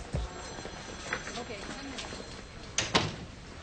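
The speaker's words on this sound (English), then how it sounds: "Close the door." A door is shut indoors, two quick knocking thuds near the end after a quiet stretch of faint room sound and distant voices.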